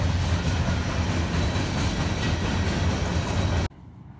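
A small park train carrying children rumbles past close by, a loud, steady rolling clatter with a low engine hum, cutting off abruptly near the end.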